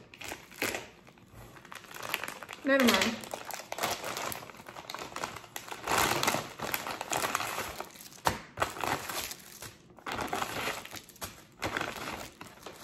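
Plastic packaging crinkles and crackles in irregular bursts, close by, with a brief spoken remark.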